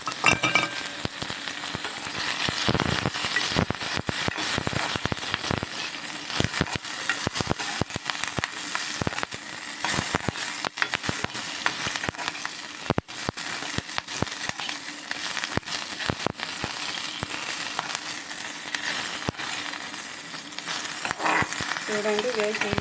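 Cumin, fenugreek and coriander seeds fry in hot oil for a peanut chutney, giving a dense, continuous sizzle with constant crackling pops, close and loud throughout.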